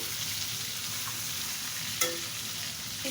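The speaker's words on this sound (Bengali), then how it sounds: "মাথাটা একটু ভেজে নেব।" A pangas fish head frying in oil sizzles steadily and densely up close, with one brief clatter partway through.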